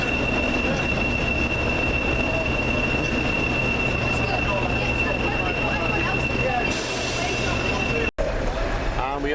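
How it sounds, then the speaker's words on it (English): A railtour train departs Chester station with a steady, loud rumble of rolling wheels and carriages, some wheel squeal and clatter throughout, and people talking over the noise near the end. "We are departing Chester."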